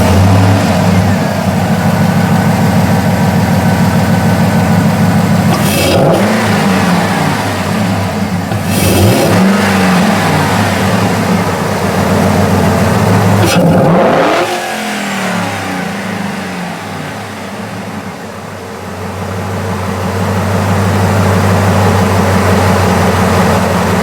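A 5.3 truck engine fitted with a cold air intake idles loudly and steadily, then revs sharply three times in quick bursts that settle back to a low rumble.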